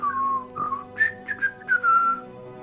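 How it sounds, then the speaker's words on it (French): Ralof, a Nord character in the video game Skyrim, whistles a casual tune while walking up, several melodic whistled phrases that rise and fall over a steady low background hum, fairly close and clear. "vous voyez Ralof qui arrive en sifflotant."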